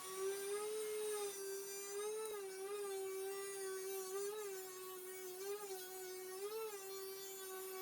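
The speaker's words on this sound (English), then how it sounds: "Now it's time to cut our groove for our stiles." A router running steadily while cutting a groove into wooden shaker door stiles, a sustained high whine that dips slightly in pitch as the bit loads in the wood, close and alone.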